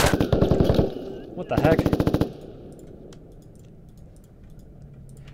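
Small arms gunfire in the video game Squad: two loud bursts of rapid automatic shots in the first two seconds, then a low rumbling ambience, with a brief exclaimed voice over it.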